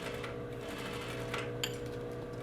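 A sewing machine stitches the small corner of a welt pocket on trousers, running steadily and evenly close by for the whole stretch, with a small click near the end.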